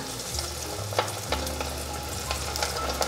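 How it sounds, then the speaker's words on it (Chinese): King oyster mushrooms and dried tofu coated in sweet potato starch deep-frying in hot oil, a steady close sizzle with scattered crackles and light stirring clicks, no voices. "把杏鲍菇和豆干放进来炸。"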